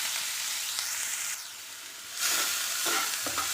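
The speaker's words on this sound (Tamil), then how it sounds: "வெங்காயம் நல்லா வணங்க விடுங்க." Chopped onions sautéing in a pan with cloves and cinnamon for a raw banana dish, a continuous close sizzle and fry that dips briefly in the middle, then returns with spoon scrapes against the pan.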